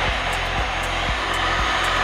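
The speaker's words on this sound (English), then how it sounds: "you can kind of put your heat gun right in front of the putty knife and that works okay" A heat gun blows steadily nearby while old varnish is stripped from a 1950s wooden hydroplane hull, a constant airy whoosh with faint regular ticking underneath.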